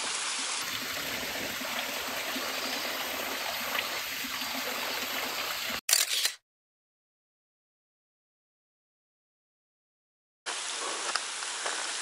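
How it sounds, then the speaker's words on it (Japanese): The Dangyo waterfall on the Oki Islands pours in a steady rushing wash of water. The sound cuts out completely for about four seconds midway and then resumes unchanged, with no talking. "壇行の滝。"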